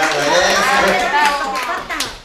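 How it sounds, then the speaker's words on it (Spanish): Family members clap together at a 78th birthday celebration with mariachi music, the claps close and lively, mixed with voices and someone speaking throughout. "Los aplausos para festejar."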